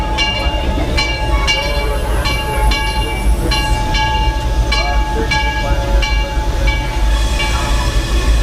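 Disneyland Railroad train running along its tracks, a steady loud rumble with recurring metallic wheel clicks and squeals over the rails, with faint voices in the background.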